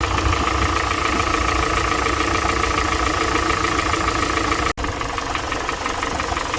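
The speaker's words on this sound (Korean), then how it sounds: "자, 소리를 잘 들어보시면 띡띡띡 거리고 떨떨떨 거리는 그런 띡띡띡 거리 이런 소리가 좀 들리잖아요." A used Kia K5 engine at idle with a fault, giving a loud, continuous mechanical drone with ticking, rattling and metallic scraping layered through it, interrupted by one brief cut near the end.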